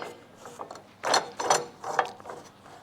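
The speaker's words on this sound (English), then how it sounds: "clamp your work piece like this" Close mechanical ratcheting comes from the vise of an Evolution EVO Max cold cut saw as a workpiece is clamped, in three crisp clicking bursts over a quiet background.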